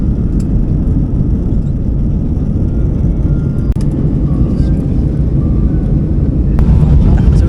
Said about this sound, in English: That was a really, really windy takeoff.